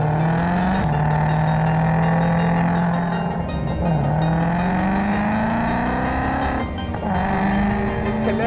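A CS850 GT Mustang engine drones loudly throughout, its pitch climbing steadily under acceleration, dipping at gear changes near one, four and seven seconds, then rising again, heard close up from inside the car.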